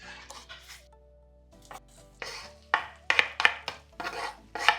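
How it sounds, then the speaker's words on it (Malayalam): Chopped onions tipped into butter in a pan while cooking butter chicken, followed by repeated metallic scraping and stirring knocks of a utensil against the pan over a faint low sizzle, close and intermittent. "ഇനി നമുക്കിതിലേക്ക് സവോള ഇട്ട് കൊടുക്കാം"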